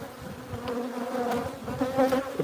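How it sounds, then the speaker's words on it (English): Many bees buzz around an open beehive, a steady close droning hum with individual insects passing near, no talking. "Sorry about all the bees. I'm sure it's very annoying having all these bees"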